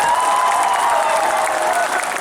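Crowd applause at an outdoor political rally in Manikpur, Dhalai, a dense steady wash of many hands clapping that carries loud and unbroken throughout, with a faint tonal hum running underneath.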